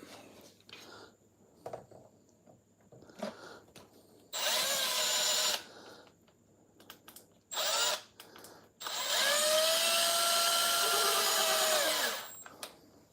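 Long screws being driven into the back of a Kronos XTR RC car with a power screwdriver: three whirring bursts, the last longest, separated by quiet handling clicks and soft rustling, close by.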